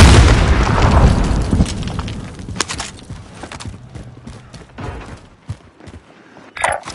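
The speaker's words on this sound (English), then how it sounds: "Throwing frag grenade." A frag grenade detonates in the Warzone video game: a loud, deep blast opens with a rumbling tail that fades over several seconds, followed by scattered debris clatter and a sharp pop near the end.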